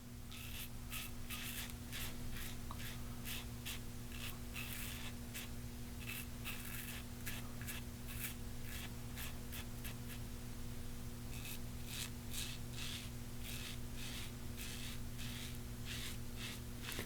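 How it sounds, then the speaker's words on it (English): Close, steady scraping of a Merkur 15C safety razor cutting stubble along the sideburn, a dense run of short rhythmic strokes over a constant low hum, with no talking. "Perpendicular, tilt slightly up. Find that angle, cut that sideburn."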